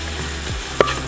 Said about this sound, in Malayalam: ഇത് നന്നായിട്ടൊന്ന് ഫ്രൈ ആവട്ടെ